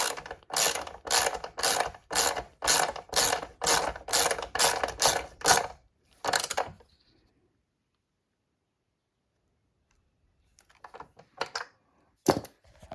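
A ratchet clicks in quick, even bursts while tightening an aftermarket exhaust on a Kawasaki ZX6R motorcycle, about a dozen strokes close up, then silence and a few faint clinks of tools.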